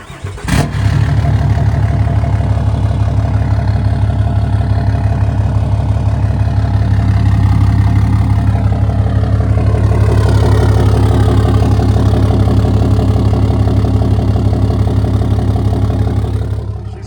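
A tuned diesel Ram Mega Cab truck with a deleted, full-open exhaust cranks with a sharp burst, then settles into a loud, steady, rumbling idle that holds close and continuous, with no talking.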